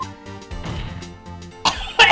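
Someone coughs in short harsh bursts near the end, two loud blasts after a stretch of quieter background sound and music-like tones.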